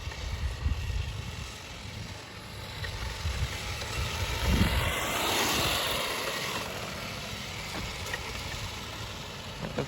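Restored 1988 Hirobo Toyota Celica GT-4 radio-controlled car running outdoors, a steady faint motor whine that rises and passes near the middle, over a constant background hum.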